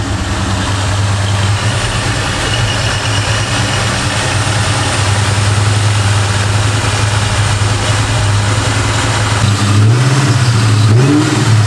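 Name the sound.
Terminator Cobra car engine running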